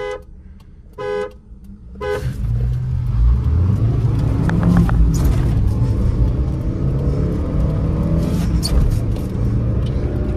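A Hyundai Santro and a Maruti Alto line up for a drag race. A few short horn toots come first, then loud engine rumble and acceleration build and hold near by.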